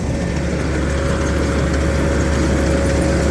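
The new engine of a Tamco Z3000 combine harvester runs at a steady idle, a loud continuous low diesel drone with a constant hum and no voices.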